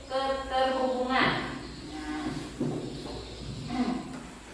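A cow moos a few times, the first call long and full, followed by shorter, lower lowing sounds, fairly close and clear with no other sounds competing.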